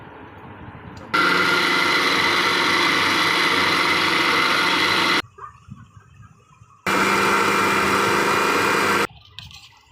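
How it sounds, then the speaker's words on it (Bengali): An electric blender whirs through chicken and onion for momo filling in two loud, steady bursts of about four and two seconds, separated by a short quiet pause. "এই তো ব্লেন্ড করা হয়ে গেছে।"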